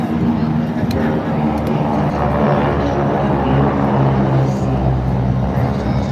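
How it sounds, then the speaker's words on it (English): Aircraft of the Condor flight formation pass during a military airshow at Camarillo, California, a loud, steady engine roar holding through the whole stretch, with crowd and announcer voices mixed underneath. "the Condor's flight formation to smoke is on"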